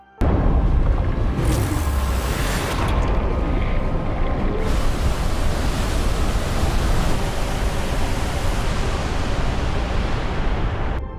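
Loud, continuous roar of rushing river water surging toward a deep waterfall in a film scene, a broad steady wash of churning current that starts abruptly and holds without pause.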